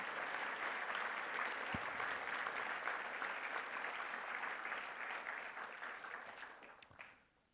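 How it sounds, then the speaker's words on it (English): Sustained crowd applause at the launch of LifeLink Day 2017, a school awards event, with dense steady clapping that gradually fades out at the end. "And let's give them a round of applause."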